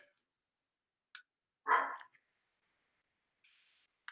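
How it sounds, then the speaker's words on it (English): A cranky pet dog lets out one short sharp bark in a quiet room, with a couple of faint clicks before it and a soft rustle afterward. "Gizmo is a very, very cranky dog."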